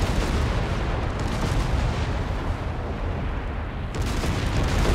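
Grenade explosion in the Company of Heroes 3 war video game, a loud, dense roar of blast and battle noise filling the whole stretch with a brief dip near the end; no talking.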